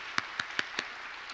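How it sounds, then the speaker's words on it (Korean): Four sharp, evenly spaced claps from a church congregation ring out in a steady rhythm over a soft, diffuse crowd wash. "하나님께 영광의 박수 올려드리겠습니다."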